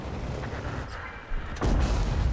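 A Ferdinand tank cannon fires in World of Tanks, a heavy, booming blast that hits suddenly partway through and rumbles on over ongoing battle noise.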